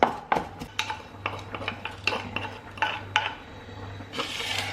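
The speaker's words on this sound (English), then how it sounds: "Adding a pinch of salt and mashing it will make the chilies more tastier" Chilies mashed with a pinch of salt make a series of sharp scraping, grinding knocks in an uneven rhythm, close and fairly loud, with no talking.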